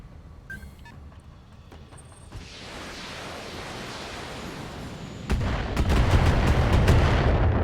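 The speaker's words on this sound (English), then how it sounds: "That's a whole lot of missiles." A mech fires a missile barrage in the video game BattleTech, a dense, rising rush of launches and whooshing noise that swells into a loud run of rapid impacts and booms, with no talk.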